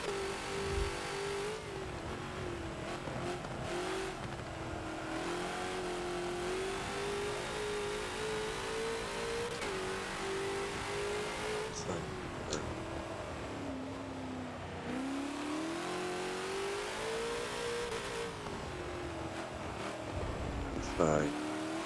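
Engine of the TNT GT40 race car in Forza on the Sebring circuit, revving and droning steadily near and loud, with pitch rising and falling through gear changes and corners, and a voice talking over it.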